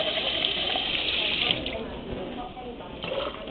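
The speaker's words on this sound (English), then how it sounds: "with that same can, just add a can of water" A can of water is poured into a pot with white beans, rice and round steak, making a steady, fairly loud gushing splash for about a second and a half that then fades and trickles.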